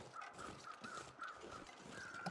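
Crows caw repeatedly in the snowy wilderness of The Long Dark, harsh calls in an uneven rhythm, faint and distant over a low wind-like background.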